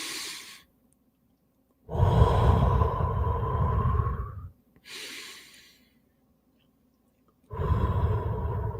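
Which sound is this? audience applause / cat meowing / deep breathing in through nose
deep breathing in through nose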